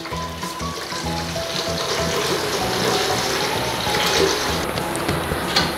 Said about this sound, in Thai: ใส่น้ำเปล่าลงไปนะคะ